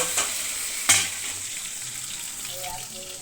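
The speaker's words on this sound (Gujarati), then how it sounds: "વઘાર કરી નાખું" Hot oil sizzles as chilies and tomatoes go into the tempering for a brinjal curry. Two sharp crackles stand out early, followed by a quieter, steady frying hiss close by.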